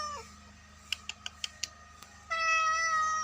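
A hungry pet cat meowing indoors, a drawn-out meow at the start, then a run of short rhythmic chirps and a louder sustained meow at the end, close and clear with no talking.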